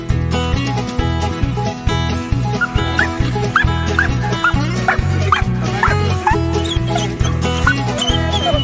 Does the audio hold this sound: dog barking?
yes